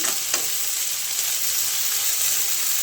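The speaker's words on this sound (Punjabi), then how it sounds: "ਅਦਰਕ ਲਸਣ ਹਰੀ ਮਿਰਚ ਨੂੰ ਤੜਕੇ ਦੇ ਵਿੱਚ ਪਾ ਲਾਂਗੇ ਤੇ ਇਹਨੂੰ ਆਪਾਂ ਹਿਲਾ ਲਾਂਗੇ ਜੀ ਚੰਗੀ ਤਰ੍ਹਾਂ ਚਮਚ ਨਾਲ" Ginger, garlic and green chili sizzle in a hot tempering, a dense and even crackle close by, with a faint spoon tap at the start and no voices.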